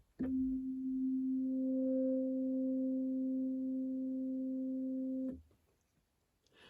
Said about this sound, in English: Now we add in pipe 2, which is an octave up.